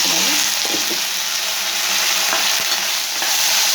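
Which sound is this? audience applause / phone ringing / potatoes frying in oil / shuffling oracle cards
potatoes frying in oil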